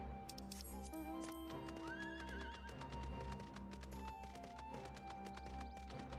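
A horse in Final Fantasy 14 gallops with rapid clip-clop hoofbeats and lets out a whinny over a steady game soundtrack.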